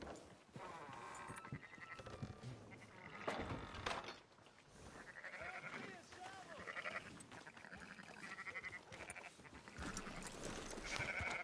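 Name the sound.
sheep bleating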